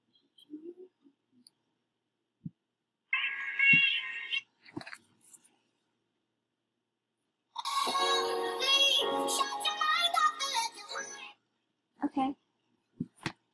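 A cat gives a few short meows, then a longer, louder drawn-out yowl, with brief rustles and clicks in a quiet room.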